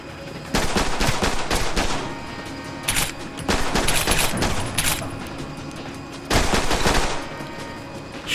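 Gunfire in the video game The Bourne Conspiracy, with loud bursts of rapid automatic shots in several separate volleys and short pauses between them.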